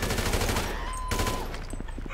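GTA 5 gunfire: a dense volley of sharp shots crackles in rapid bursts over steady background noise, with a brief tone sounding partway through.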